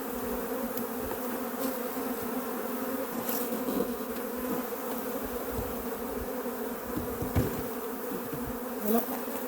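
Bees buzz steadily and densely close by with no break, their swarm hum joined by occasional brief louder passes.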